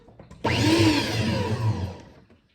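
An electric hand mixer whirs steadily through brownie batter for a Christmas baking session, starting abruptly and running loud and continuous for about a second and a half before winding down.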